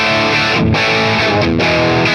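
Electric guitar played through a Marshall JCM 800 amp capture on a Hotone Ampero Stage II pedalboard, giving a dense distorted tone with sustained chords and two brief dips, loud and continuous throughout.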